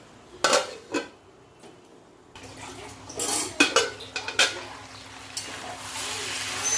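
A spoon scrapes and knocks against a pan while teasel gourd curry is stirred and sautéed: several sharp metallic clinks over a soft background sizzle.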